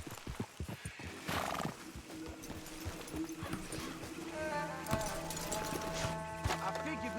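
Horses in Red Dead Redemption 2 whinny and snort while hooves clip-clop on a road, several neighs rising over steady hoofbeats at close range, with no talk over them.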